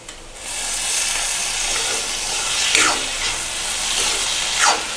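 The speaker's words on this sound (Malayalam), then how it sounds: "ഉള്ളി ഏകദേശം നന്നായി വാടിയിട്ടുണ്ട് ഇനി അതിലേക്ക് നമുക്ക് അരിഞ്ഞു വെച്ചിരിക്കുന്ന തക്കാളി ചേർക്കാം" Chopped tomatoes hit softened onions in a hot pan for Kerala-style chicken roast, setting off a loud, broad sizzling hiss that swells up and holds steady, with a couple of brief sharper bursts near the end.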